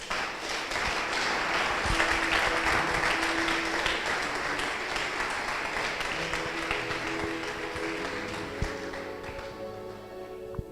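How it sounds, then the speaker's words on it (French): A church congregation applauds and cheers in praise of the Lord, a dense, steady wash of clapping that holds throughout and slowly tapers toward the end, with faint tonal sound underneath. "On peut acclamer très fort le Seigneur."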